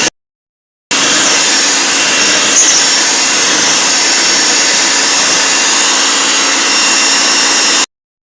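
Electric hand mixer beating vanilla cake batter after a third of the sugar goes in, a continuous loud close whir that holds steady for about seven seconds, then cuts off.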